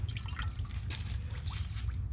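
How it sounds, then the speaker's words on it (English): Water dripping and trickling as a microfiber cloth soaks in a bowl of household water, a close, continuous wet patter with faint squishing and no speech. "I'm gonna soak my microfiber cloth in here for a second."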